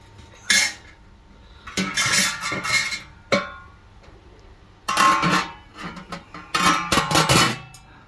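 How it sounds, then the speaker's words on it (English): A lid being set on a home-brewing pot makes a series of metallic clanks and rattles in irregular bursts, fairly close and loud, with quiet pauses between them and no talking. "I think I'm gonna pop a lid on"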